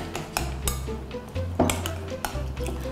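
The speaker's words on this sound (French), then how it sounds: "Et là, je mélange." Crab salad being mixed in a bowl, with a utensil clinking and scraping against the dish in irregular knocks and rubs, close and fairly loud.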